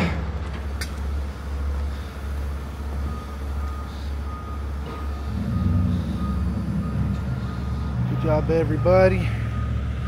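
A large delivery truck backs up on a Los Angeles residential street, its reversing alarm beeping steadily over a low engine rumble, while someone speaks briefly nearby.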